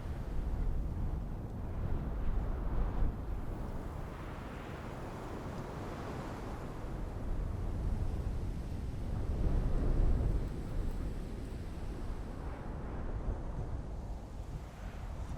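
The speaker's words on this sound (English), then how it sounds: "It is definitely windy." A strong winter windstorm roars around a tiny camper in Colorado, a low rumbling rush that swells and gusts, peaking loudest midway, with no voices.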